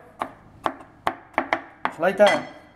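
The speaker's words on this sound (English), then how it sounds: "you can use a knife to cut it like that, cut like that" A knife chops cauliflower into small pieces on a board for Chinese cauliflower fried rice, with six or seven sharp, evenly spaced cuts close up, quickening into a busier flurry of chops at the end.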